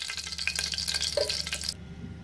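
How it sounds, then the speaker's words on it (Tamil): Cinnamon, cardamom and cloves sizzle in hot oil in a pan for a kadalai kuzhambu, a bright steady crackle with small pops that cuts off abruptly near the end, leaving a faint low hum. "பட்டை ஏலக்காய் கிராம்பு மூணுத்தையும் போட்டு காய்ச்சிக்கிறேன்"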